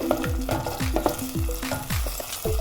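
Cheese sauce melting with a little water in a pot gives a lively sizzle and bubbling, broken by repeated scraping stirs against the pot in a quick rhythm.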